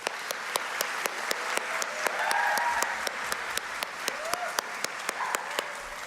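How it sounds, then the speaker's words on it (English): An audience at a short film awards ceremony applauds steadily, a dense wash of clapping with a few sharper individual claps standing out, moderately distant and without talk. "Let's give them a round of applause."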